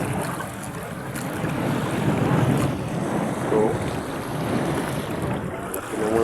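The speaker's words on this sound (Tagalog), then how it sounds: "malakas ang hangin guys" Strong, steady wind roaring over open water at sea, buffeting the microphone, with waves and surf churning underneath throughout.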